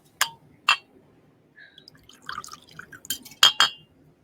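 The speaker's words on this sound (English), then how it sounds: "I feel like I shouldn't pour too much, but I'm gonna pour more." Scotch whisky poured into a glass in a few short splashing bursts, with a pause of small clinks and drips in between, close and clear with no talking.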